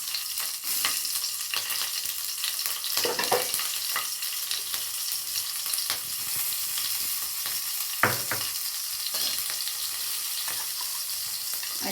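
Black cumin seeds and two or three green chilies sizzle in hot oil as a tempering, a continuous crackling hiss with scattered pops and occasional stirring scrapes, close and steady.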